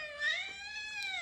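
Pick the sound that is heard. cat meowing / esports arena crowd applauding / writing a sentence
cat meowing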